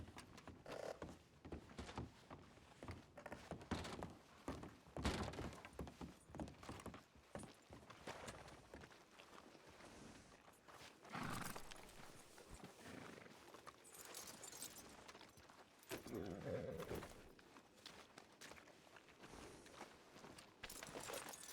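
Horse hooves clop in a steady, rhythmic trot through Red Dead Redemption 2 roleplay, moderately loud and continuous, with game ambience and brief faint voices around them.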